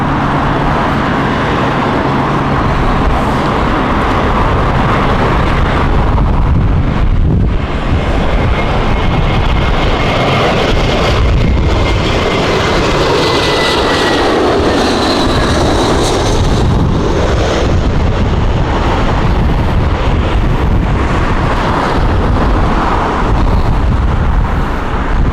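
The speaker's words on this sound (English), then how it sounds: "heavy crosswinds today, strong crosswinds, produce some really interesting arrivals and touchdowns" Aircraft arriving at Heathrow in strong crosswinds, a loud sustained roar of engines that swells and shifts over nearly half a minute, heavy rumble with a whining tone rising through the middle, no talking.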